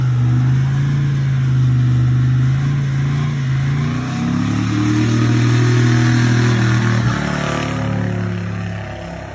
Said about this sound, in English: Me smoking the tires in.